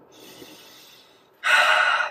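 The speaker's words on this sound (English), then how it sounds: "we're gonna take 3 deep breaths in" Deep breaths drawn in through the nose, a softer airy inhale followed by a louder, stronger one, close to the listener with no talking.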